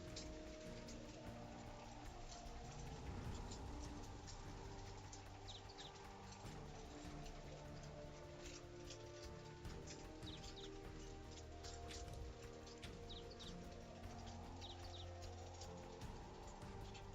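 Rain falls outside in a continuous soft patter of drops on surfaces, steady and fairly faint throughout, with a rhythmic background music loop playing alongside.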